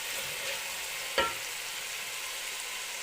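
Garlic and ginger frying in a pan toward golden brown give a steady, soft sizzle, broken once by a single brief clack of a utensil.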